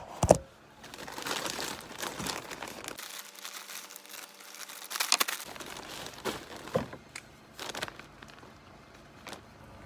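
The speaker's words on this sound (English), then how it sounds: "We'll just slide it in this poly mailer." A shirt is slid into a plastic poly mailer, giving loud, close crinkling and rustling that comes in bursts with a short quiet pause midway and a sharp crackle at the start.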